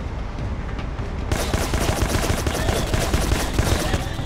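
Sustained automatic gunfire in the video game Rogue Trooper, a dense, loud rattle of shots that swells and thickens after the first second and keeps going without pause.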